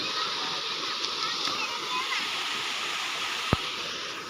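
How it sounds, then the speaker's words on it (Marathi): A waterfall at Chandoli roars in a constant, dense rush of falling water, with a single sharp knock partway through and faint voices under the noise. "आपण आता फायनली आपण धबधबे आलोय"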